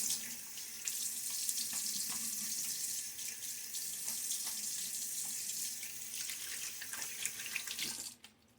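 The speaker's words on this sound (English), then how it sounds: "a little water on my face" Water from a sink tap splashes steadily as it is scooped onto the face during a wet shave. A constant close rush with small splashes runs for several seconds, then cuts off abruptly.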